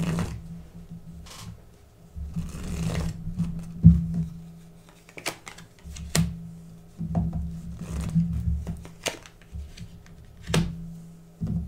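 Tarot cards shuffled by hand for a reading, soft close riffling and rubbing bursts with intermittent sharp taps as cards hit the table, quiet and irregular.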